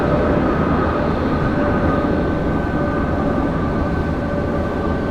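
Emirates Airbus A380 jet arriving from Dubai at Brisbane International Airport, a steady, loud broadband engine roar that holds evenly throughout, with no voices.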